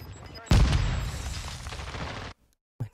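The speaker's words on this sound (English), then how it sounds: "Ugh, grenade on him." A grenade goes off in a shooter video game, a sudden heavy blast with a rumbling tail that lasts nearly two seconds, then cuts to silence before a short thump.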